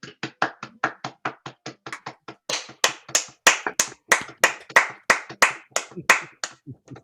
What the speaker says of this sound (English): Can we all unmute and give a great round of applause to the organizers and the speakers?